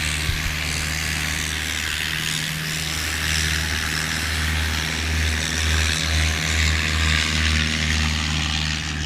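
A STOL propeller airplane powers up for a short takeoff at a Swamp STOL practice in Jennings, Louisiana, its engine a steady loud drone with a low propeller hum that swells toward the end.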